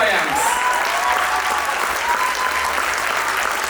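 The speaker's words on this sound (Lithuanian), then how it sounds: "Negailėkime plojimų mokytojams." A hall audience applauds steadily at a children's choir anniversary concert, dense even clapping lasting throughout without pause.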